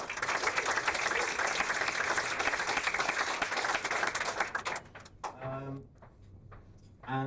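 An audience applauds at a London Pride talk held in an office, steady dense clapping for about five seconds that then fades, leaving quieter room sounds and a voice starting to speak.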